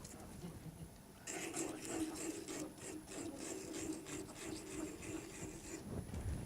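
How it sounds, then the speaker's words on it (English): A palm sander works over wood, its rough buzzing rasp starting after about a second and running steadily to the end, close and moderately loud. "I'm going to use my palm sander"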